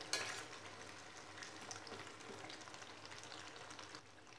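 A kai surul dough snack fries in hot oil with a soft, continuous sizzle and light crackling, fairly quiet and steady, with no talk.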